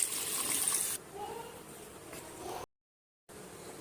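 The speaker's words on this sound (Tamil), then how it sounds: "இதோட நம்ம தண்ணி சேர்த்துக்கலாம்." Water is poured into ground spice masala in a pan for a village-style fish curry, making a steady close pouring splash that stops abruptly, followed by brief silence.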